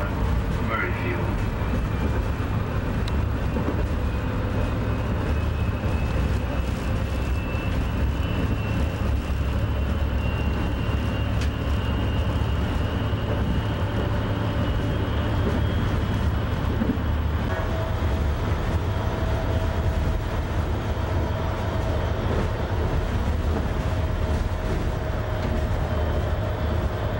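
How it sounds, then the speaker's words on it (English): A Washington Metro Orange Line train runs alongside I-66 with a steady, loud low rumble and rail hum that holds without pause, and a voice talks over it. "this train is going at a considerably faster pace than the surrounding traffic on I-66"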